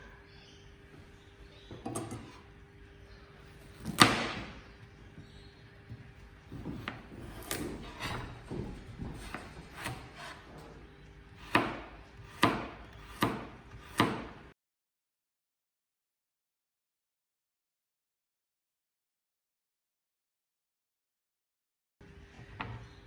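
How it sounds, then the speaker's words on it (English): A knife slices through carrots on a cutting board in a kitchen, making a series of sharp, close cuts that quicken into a rapid run before silence and one more faint cut. "slice it in half lengthways, and then slice it again."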